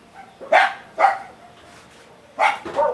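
A dog barks four times in two quick pairs, sharp and fairly close, with short quiet gaps in between.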